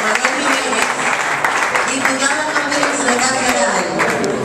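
Audience applause at a carnival troupe assembly rings out as a dense, steady patter of clapping, with voices talking over it throughout.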